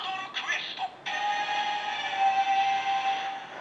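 A blue Kamen Rider Brave Gashat toy plays a short burst of electronic effects followed by sustained brassy fanfare music from its small, tinny speaker, close and steady with no talking.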